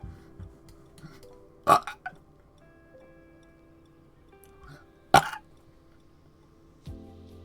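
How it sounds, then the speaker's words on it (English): A man burps on command, letting out two sharp, loud belches several seconds apart in an otherwise quiet room, with a few faint clicks and small throat sounds between them. "I can burp on command if you want."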